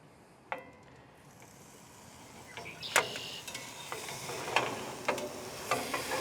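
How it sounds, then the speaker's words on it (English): A halibut fillet laid presentation side down in a Lodge cast iron pan, a soft sizzle that builds and hisses steadily, punctuated by a few sharp pops and crackles, with no talking. "we're going to put this presentation side down into the Lodge cast iron and basically leave it alone"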